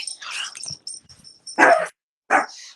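A pet dog barks a few times close by, short sharp yaps with whimpering squeaks between them, indoors during a relationship advice show.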